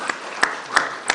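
Four sparse, evenly spaced claps at a county commission candidate forum, light and somewhat distant over a faint room hum.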